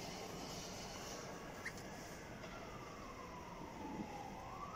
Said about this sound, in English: There goes another ambulance or police car.